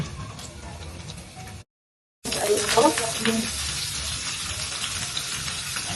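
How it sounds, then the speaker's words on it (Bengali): Onion and garlic frying in hot oil give off a steady sizzle with some stirring and crackle. A short silent gap breaks the sound, then it resumes slightly louder and continues to the end. "তেল দেওয়ার পর মানে পেঁয়াজ আর রসুন দিয়ে দিলাম"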